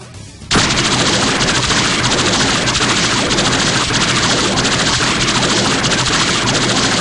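After a brief quiet start, a video game proton cannon erupts in a loud continuous barrage of rapid-fire blasts that keeps going without pause, harsh and dense like a sci-fi weapon unloading.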